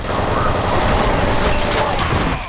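Dense, loud video-game gunfire in a friendly-fire moment, a continuous crackling barrage of shots running steadily for a couple of seconds.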